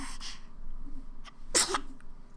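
A small boy's single sharp sneeze bursts out close by, preceded by a quick breathy intake, in an otherwise quiet room.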